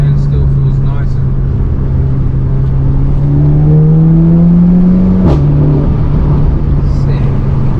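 A 420bhp four-wheel-drive Skoda Superb with stock turbos accelerates hard, the engine drone climbing steadily in pitch before a quick, nearly seamless gear change and a fresh pull, heard loud from inside the cabin with someone talking.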